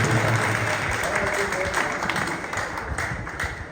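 An audience at a ghazal performance breaks into applause, a dense wash of clapping that stays loud and close, with a few murmured voices mixed in before it gradually tapers off.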